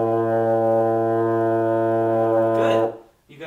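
A student sustains a low, steady tuba note for about three seconds, loud and close with rich buzzing overtones, before it breaks off with a brief burst of air noise.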